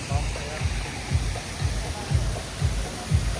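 Steady rushing water of a waterfall in Abu Dhabi, with a low rhythmic thumping pulse underneath, continuous and fairly close.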